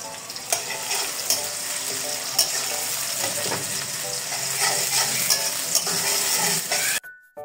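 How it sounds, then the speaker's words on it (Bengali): Chopped onion frying in hot oil in a pan, a steady crackling sizzle with occasional stirring scrapes and clinks, moderately close, ending with a brief handling knock. "তেল গরম হয়েছে, এখন পেঁয়াজ কুচি দিয়ে দিই।"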